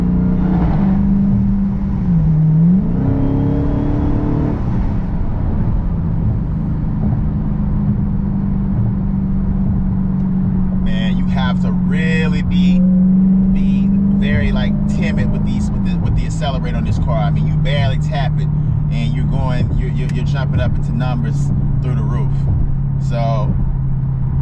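Engine of a 2020 Dodge Charger Daytona Hellcat Widebody on a track, a steady low drone with shifts in pitch as it drives, loud and continuous under someone talking in the cabin.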